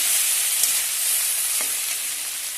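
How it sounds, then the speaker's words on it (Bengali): Coriander leaves and green chilli being stirred through a spice masala in a pan, heard as a steady hiss of sizzling with a few faint scrapes of a spoon, close by and continuous. "ধনে পাতা কিছু লঙ্কা কাঁচা লঙ্কা মশলাটা হালকা করে একটু নেড়ে ছেড়ে নেব"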